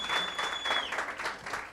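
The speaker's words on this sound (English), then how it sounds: "Let's give him another round of applause." Applause at a networking workshop, a short burst of clapping from the audience with a faint high electronic tone, fairly quiet and distant.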